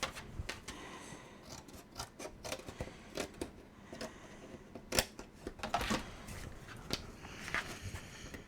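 Tim Holtz scissors work through stiff chipboard by hand, producing close, quiet crunching snips and scraping rubs in an irregular rhythm, with occasional sharper clicks as the blades close.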